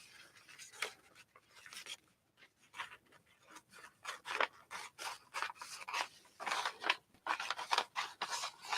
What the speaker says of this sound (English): I think I'm going to have to clip these a little here. Let's cut these out.